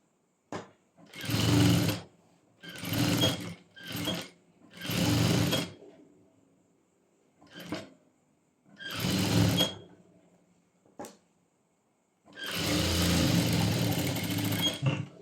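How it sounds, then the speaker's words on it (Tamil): A sewing machine stitches a folded pant hem in several short bursts separated by pauses, with a longer run at the end; the motor whir and needle clatter are loud and close, no talking. "இப்போ இங்கேருந்து இங்கே ஸ்டிச் போட்டுக்கிறேன்"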